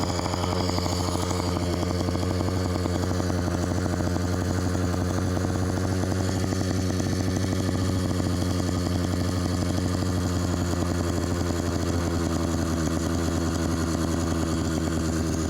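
An LA Hover Bikes Phantom 85 small engine idles high and loud up close, a steady buzzing drone with a rapid regular putter, unbroken for the whole stretch and with no talking.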